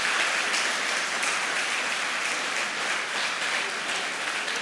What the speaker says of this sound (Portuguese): E quem pode dar uma salva de palmas para Jesus?